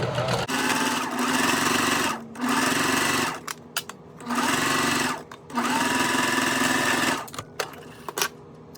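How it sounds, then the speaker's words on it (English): A sewing machine stitches down the lower front slip pocket of a fabric bag. It runs in four close, loud bursts of rapid buzzing stitching, with short pauses and small clicks between them. "Now we're going to take our lower front slip pocket, sew this down."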